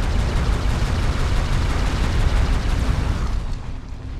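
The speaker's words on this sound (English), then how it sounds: "let's destroy this building" A building collapsing under explosions in the video game MechAssault, a loud, continuous roaring rumble of blasts and crumbling debris that fades slightly at the end, no talking.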